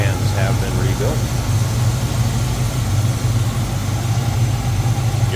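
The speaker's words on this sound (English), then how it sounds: "Definitely good looking engine, man. Listen to that. Smooth running" A 1968 Chevrolet Camaro RS with a numbers-matching engine idles smoothly and steadily up close, a constant low rumble holding even throughout with no revving.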